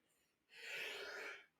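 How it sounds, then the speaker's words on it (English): A single sneeze from a man, a short inhale followed by a loud burst of breathy noise, close to the microphone. "I think I got a sneeze coming."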